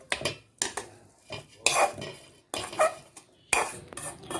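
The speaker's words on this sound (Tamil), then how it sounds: "தாளித்ததை நம்ம இப்போ மாவில் கொட்டிடலாம்" Tempered spinach seasoning is scraped from a hot pan into adai dosa batter, with a quick run of metal clinks and scrapes of a spoon against cookware.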